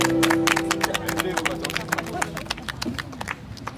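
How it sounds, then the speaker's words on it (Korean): Applause from an audience at a seaside busking show on Gwangalli beach in Busan in autumn: a quick run of close, scattered claps that thins out and fades over a few seconds, with a voice briefly audible underneath. "박수를 많이 쳐주세요"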